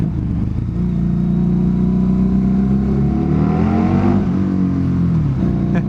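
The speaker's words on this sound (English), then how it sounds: "they really nailed it with the sound on this bike for sure." Harley-Davidson cruiser motorcycle engine rumbling loudly and steadily through a tunnel, its deep exhaust note swelling and echoing as revs climb, then dropping briefly near the end.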